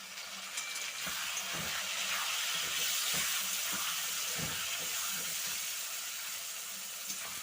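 Tomatoes go into a pan of fried potatoes in hot oil, seasoned with salt and turmeric, and the pan sizzles steadily. A constant soft hiss carries a few faint dull knocks underneath.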